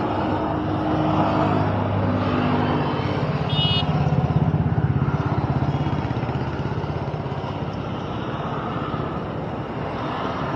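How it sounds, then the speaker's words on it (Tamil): Maruti Suzuki Ritz petrol hatchback idling in its engine bay, a steady close-up drone with constant low rumble and mild mechanical whir, no talking. "வண்டியோட இன்ஜின் ரூம் அண்ட் இன்ஜின் சவுண்டை பார்த்தீங்கன்னா லைஃபாக கேட்டு வந்துடலாம்"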